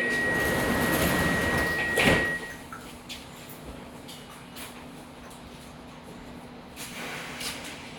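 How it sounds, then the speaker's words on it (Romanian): Bucharest metro train doors on the M3 line slide shut with a loud burst of hiss and clatter, then a steady tone lingers as the train settles into a quieter hum. "Atenție! Se închid ușile."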